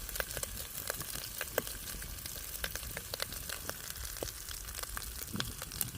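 Masala paste for a mutton curry sautés in a pan, giving a soft, steady sizzle dotted with faint crackles and pops.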